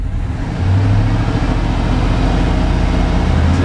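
GM crawler hauler truck engine rising from idle into a sustained rev, a loud, steady low drone held close by for several seconds, with someone briefly speaking at the start.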